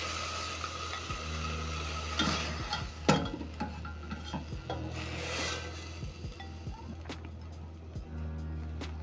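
Cooked kunde is scraped from a pan into a bowl with repeated rough rubbing and scraping strokes, close, interspersed with sharp utensil knocks against the pan.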